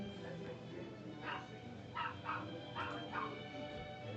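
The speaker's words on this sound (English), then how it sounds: "The dog wants food." A hungry dog whimpers and yips in several short, faint cries spaced irregularly over a low background hum.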